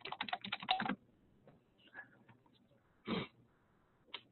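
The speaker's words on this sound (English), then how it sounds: "I'm gonna type it up here." Computer keyboard typing in a quiet room: a quick flurry of keystrokes at the start, a few faint clicks, then another short burst and a final tap.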